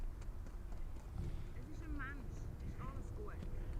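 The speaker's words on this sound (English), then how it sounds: "The galloping you're hearing, it's a horse" A horse gallops with rapid rhythmic hoofbeats beside a plane-spotting spot in Zurich, Switzerland, steady and moderately near, with faint birdlike chirps over a low outdoor rumble.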